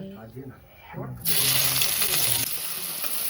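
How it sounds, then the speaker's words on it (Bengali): Onion dropped into hot oil in a home kitchen pan: after a brief stretch of quiet talk, a sudden loud hiss bursts out and settles into a steady, close sizzle. "পেঁয়াজটা দিয়ে দিই তেল গরম হয়ে গেছে"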